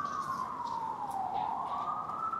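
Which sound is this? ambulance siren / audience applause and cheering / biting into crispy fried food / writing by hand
ambulance siren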